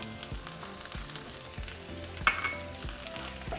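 Chorizo frying in a pan with chopped onion and a serrano chile, a steady close sizzle with a few soft stirring scrapes and a brief sharper clink partway through, no voices.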